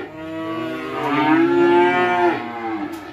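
Cattle at a Thanh Trung cattle farm selling BBB and cream French breed cows let out a loud, sustained moo lasting over a second, rising and falling close by with no talk over it.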